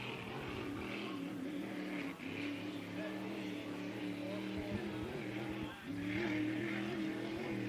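A powerful unlimited hydroplane racing boat engine at the 2025 Madison Regatta roars steadily with a deep droning pitch that shifts slightly as it runs, heard from a distance with no talking.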